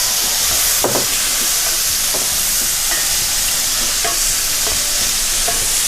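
Parboiled potatoes hit a hot pan and fry with a loud, continuous hissing sizzle, broken by a few soft knocks and scrapes of stirring.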